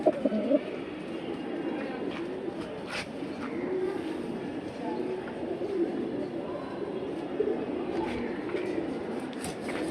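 A pair of silver pigeons coo softly and steadily up close, with low continuous murmuring and no voices.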